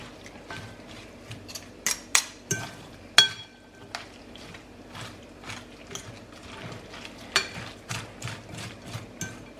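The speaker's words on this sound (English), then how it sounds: "Now we're going to give that a good mix together." Coleslaw ingredients being mixed together in a bowl, an irregular run of close clicks, taps and scraping knocks of a utensil, with no talking.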